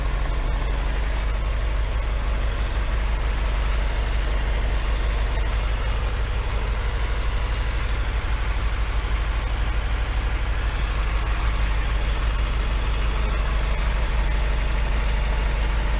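A Suzuki Bandit 650 motorcycle idles with its choke off after carburettor trouble, a steady, even engine drone with a low rumble held close and constant throughout, no one speaking.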